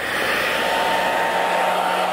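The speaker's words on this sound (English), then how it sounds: "we're gonna show you how to use a hair dryer" A hair dryer runs nearby with a steady, loud, even whoosh that holds unbroken for the whole moment, with no voices over it.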